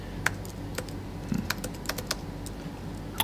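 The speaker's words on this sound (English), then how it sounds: "So let's type it in." Typing on a computer keyboard, a sparse run of separate key clicks at an uneven pace over a quiet room background.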